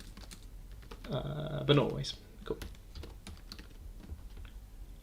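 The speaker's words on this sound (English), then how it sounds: "I'm typing it just in case she's not here and doesn't watch the replay." Clicky typing on a computer keyboard, a brief burst of quick, close keystrokes, followed by a few scattered taps, with a person speaking softly around them.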